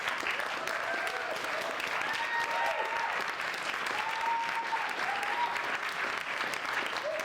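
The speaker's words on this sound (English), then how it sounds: "I think the students all deserve a big round of applause." Audience at a college elevator pitch competition applauds the finalists with steady, dense clapping that fills the whole stretch at an even level, a few faint voices and whoops within it.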